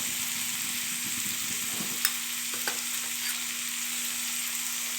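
Peanut bhaji with tomato, turmeric, chilli and garam masala sizzles steadily in hot oil as it is sautéed, a dense continuous frying hiss broken by a few faint stirring scrapes, with no voices.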